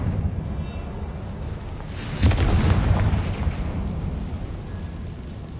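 The Confringo explosive spell goes off in Hogwarts Legacy with a deep booming blast that bursts suddenly and then rumbles and fades over a few seconds against a steady low background.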